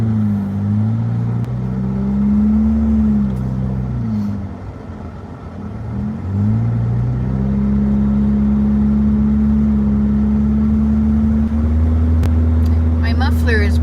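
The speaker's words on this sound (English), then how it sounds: "My muffler is broken" A car with a broken muffler drives along, its loud, rough low engine drone rising and falling through gear changes and running steadily close by for the whole stretch, with a brief dip partway through; no one speaks.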